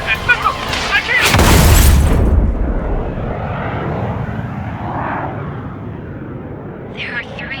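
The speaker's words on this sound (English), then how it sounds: "The approaching Ocean aircraft." Approaching aircraft in Ace Combat 7 swell into a loud roaring boom that fades into a sustained jet rumble, with brief radio chatter at the start and end.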